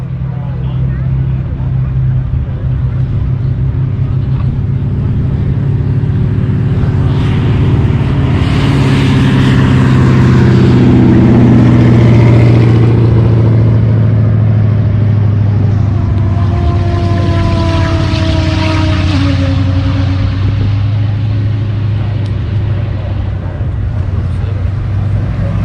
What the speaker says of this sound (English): Looks like I got Aldo in the Lamborghini, Brandon in the GTR.